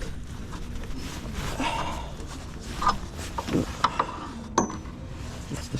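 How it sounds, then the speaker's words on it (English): Work on removing the rear shock absorber of a 2003 Toyota 4Runner brings faint metallic clicks and a few sharper clunks near the end, over a steady low rumble of background noise, with no voices. "And now, remove the shock."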